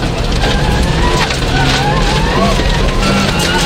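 A rally car drives hard and skids off course, its engine roaring and tyres scrabbling in a loud, continuous wash of noise, with voices talking over it.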